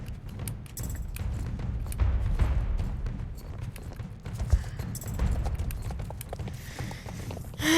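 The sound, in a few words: horse hooves trotting in a video game (Sudhoven)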